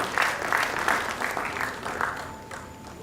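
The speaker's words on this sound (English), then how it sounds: "Please a round of applause for him as we move to the high table" Audience applause for a guest moving to the high table at a sickle cell foundation event, a moderate burst of clapping in pulsing waves that thins toward the end.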